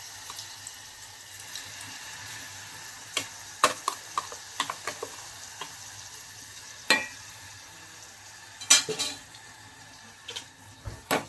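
Masala frying in a little oil for a chicken rassa, a faint low sizzle under frequent sharp clicks and taps of a spoon stirring against the pan, no voices.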